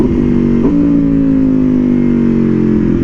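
A loud, close Aprilia Tuono V4R motorcycle engine revs with a steady throbbing drone, one quick blip early on, then a sustained high rev that slowly eases down.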